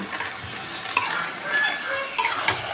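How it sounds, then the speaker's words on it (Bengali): Padma kochu stalk curry with spices is stirred in a pan, with a soft sizzle under close scraping and a few sharp utensil taps against the metal. "খুব সুন্দর মতো মশলাটার সাথে নেড়ে নেব রসটা শুকিয়ে শুকিয়ে আসলে নামিয়ে নেব"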